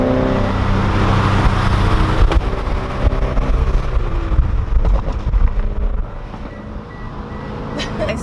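A 2013 Scion FR-S drives along with a continuous engine and road rumble heard from inside the car, mixed with wind buffeting and a few thumps.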